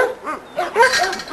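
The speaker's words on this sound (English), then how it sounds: "This dog right here" A yard dog lets out a few close, sharp barks and yelps in quick bursts, with no other sounds around them.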